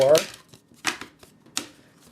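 Board game cards for a Civilization setup are shuffled in a few quick riffling bursts close by, with short pauses between them and faint voices around.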